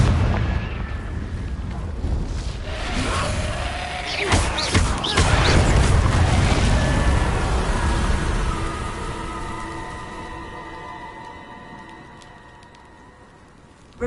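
Confringo fire spells exploding in the video game Hogwarts Legacy: a cluster of loud blasts and crackling bursts in the middle, then a fading, ringing tail.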